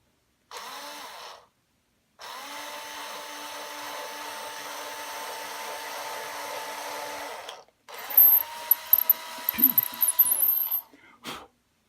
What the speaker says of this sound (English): Now this one I'm going to drill a little bit more forward from where the hole is.